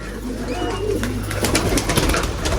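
Pigeons in a backyard coop coo continuously at close range, their low repeated calls layered over a steady noisy outdoor background.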